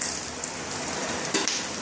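Coriander seeds frying in a pan with garlic for a home-style amti curry, giving a steady soft sizzle and crackle close by, with a few sharper pops near the end and no voices.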